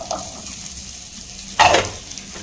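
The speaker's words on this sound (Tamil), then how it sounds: "இப்போ வந்து சின்ன வெங்காயம் சேர்த்துக்கிறேன் கேப்சிகமும் சேர்த்துக்கிறேன்" Shallots and capsicum go into hot butter for a spinach, paneer and green pea gravy, with a quiet background hiss broken by one loud, short sizzling burst up close.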